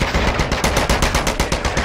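Rapid automatic gunfire in a video game rattles out in a steady fast burst of loud, close shots with no talking over it.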